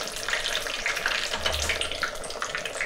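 Spice tempering sizzles in a pan for paneer kurma, a steady, even frying hiss that holds at the same level throughout with no voices.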